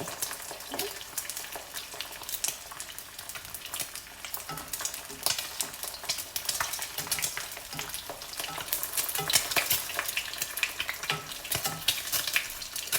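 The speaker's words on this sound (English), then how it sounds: "And then gonna let the eggs become crispy." Eggs frying until crispy in hot oil, cooked for Thai holy basil chicken: a loud, steady sizzle with dense crackling and spitting that builds slightly toward the end, with no voices.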